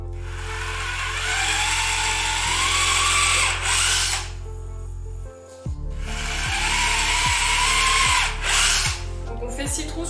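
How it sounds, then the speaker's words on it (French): A power drill boring holes in wooden boards for a rabbit hutch litter tray: two long whining bursts that rise in pitch, separated by a short pause, with clicks and handling knocks between, all close and loud. "Donc on fait 6 trous sur les 2 planches extérieures du bac."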